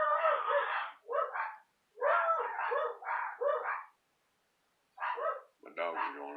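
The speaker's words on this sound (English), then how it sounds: "My dogs are going off." Several dogs bark in sharp, loud bursts, one after another, pausing briefly and then breaking out again with a rougher, whining yelp at the end.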